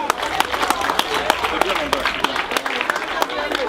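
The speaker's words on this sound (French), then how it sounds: "Applaudissez pour lui." Audience at a school awards event applauding a top pupil, a steady round of many hands clapping with crisp individual claps standing out, close and lively, with voices mixed in.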